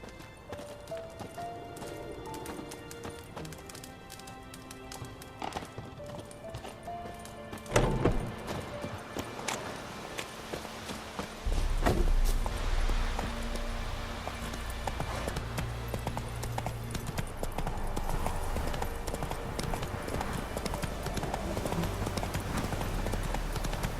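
Hooves of the horse Roach in The Witcher 3, a rhythmic clip-clop that picks up into a faster, louder gallop partway through, over soft game music with a brief whinny.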